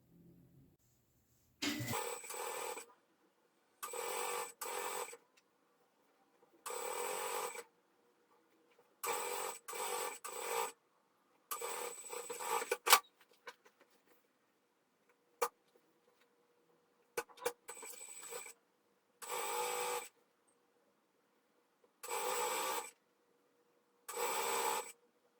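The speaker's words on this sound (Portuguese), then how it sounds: "dobra de novo e passo uma costurinha em toda essa borda aqui" A sewing machine stitches a folded fabric hem in repeated short bursts of quick mechanical whirring, separated by quiet pauses, with a few faint clicks between runs.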